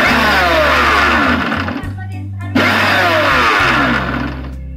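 A kitchen mixer blends homemade mayonnaise in two loud whirring bursts, motor pitch sliding as it spins up and settles, with a brief pause between runs and no voices.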